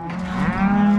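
A single cow moos loudly and close by on a Montana ranch during a cattle drive, one long sustained low bellow lasting about a second.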